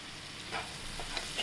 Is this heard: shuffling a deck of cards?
no